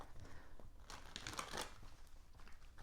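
Soft papery rustling and brief crinkly flicks of tarot cards being shuffled, a short burst of card handling close to the microphone, fairly quiet.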